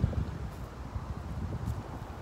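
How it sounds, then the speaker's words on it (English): Gusty wind buffets a microphone at an outdoor location, a low irregular rumble that rises and falls in short bursts, fairly faint with no voice present. "Can you hear me? It's so windy."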